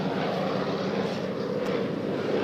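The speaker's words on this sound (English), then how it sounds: "I don't know if you've seen the shot of that beautiful airplane that just flew by." A beautiful airplane passes over a baseball field, a steady broad engine roar that holds at even loudness throughout, with no voices.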